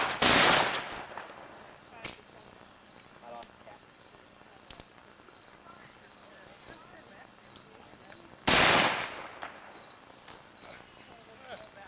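Cap gun fires twice, each shot a sharp loud crack with a short decaying tail, spaced several seconds apart, with faint clicks and insect-like chirping between, and no speech.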